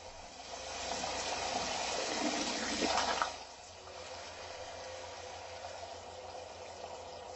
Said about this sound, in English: open the valve until it's fully open and let it flush the water tank until the water coming out the hose